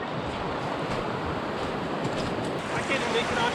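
River water rushes steadily around tubers floating down the Amable du Fond River, a loud, dense, continuous wash with some wind noise on the microphone and voices faintly mixed in.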